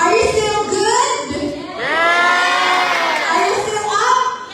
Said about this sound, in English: can you hear the noise of the audience?